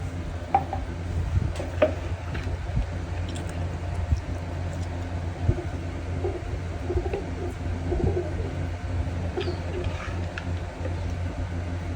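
Pigeons cooing in a low, repeated rhythm against a steady background hum, with a few faint chirps and clicks scattered across the clip.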